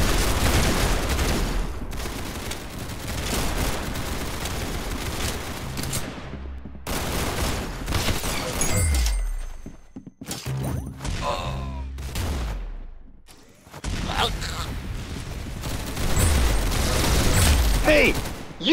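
Dense automatic gunfire and explosions pound through a first-person shooter game match, loud and nearly continuous with brief gaps and shifting bursts, while players chatter over the top.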